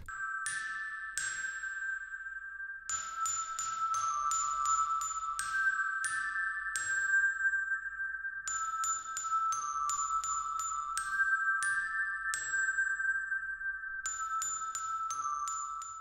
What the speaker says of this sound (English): this helps create a smoother reverb tail